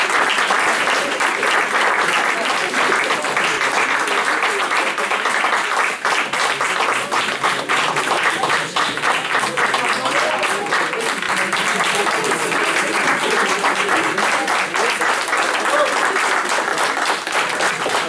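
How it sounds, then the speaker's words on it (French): Loud, sustained audience applause, dense and steady from start to finish with no talk over it. "Il faut encore les applaudir un peu."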